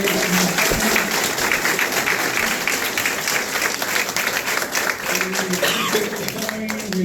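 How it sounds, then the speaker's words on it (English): Audience at a mayoral candidate meet-and-greet applauds the candidates, a sustained, full round of clapping lasting several seconds, with voices and a few cheers woven underneath. "Let's give them a round of applause for the"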